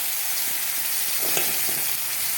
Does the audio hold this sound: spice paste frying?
yes